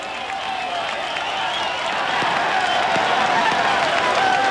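A roadside crowd at a stage of the 1999 Vuelta a España cycling race makes a steady roar of cheering and applause that swells slightly, heard behind a commentator's voice.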